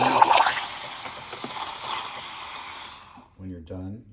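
A JURA F9 coffee machine's steam wand hisses loudly and steadily while frothing milk, stopping after about three seconds. A voice follows briefly afterward.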